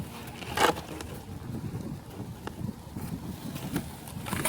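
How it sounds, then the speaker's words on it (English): Wind buffeting a microphone outdoors, a rough, uneven low rumble that gusts throughout, fairly close, with no talking. "the wind doesn't want to cooperate. It's blowing all over the damn place."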